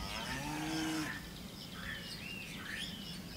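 Cows mooing while grazing on an Austrian Alpine meadow, one long clear moo up close at the start, then fainter calls mixed with birdsong in open air.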